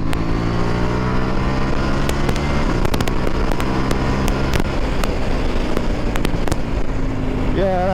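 A KTM 890 R Duke motorcycle engine roars hard under acceleration in third gear. The loud, close drone rises steadily with crackling pops throughout, and a voice talks over it.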